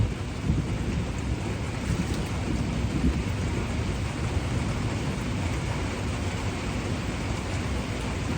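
Thunderstorm with steady heavy rain and rolling thunder rumbling low throughout, a dense continuous wash of sound close by with no voices.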